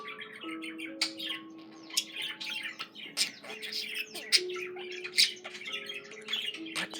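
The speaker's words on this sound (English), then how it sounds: "Budgie bird." Pet budgie chirping and squawking steadily and close, a dense run of short bright calls and warbles with a few sharper peaks, no voices.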